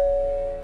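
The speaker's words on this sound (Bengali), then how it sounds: "কলিং বেলটা প্রেস করো।" A doorbell in a Bengali detective audio story gives one clear sustained electronic tone that rings steadily for well under a second, then cuts off.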